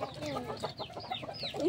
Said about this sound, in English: there are chicken here. Small chicken.